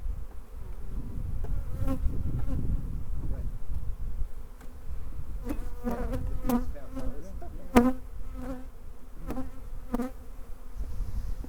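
Honey bees buzzing around a hive nucleus being transferred into a new home on a homestead, a soft continuous hum with individual bees droning past close by, amid occasional light clicks of frames being handled.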